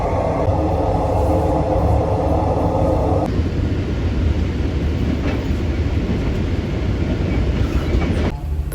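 Loud, continuous rumble of a Thai night express train running along rails, a constant low roar with faint rhythmic clatter, heard from inside a second-class carriage.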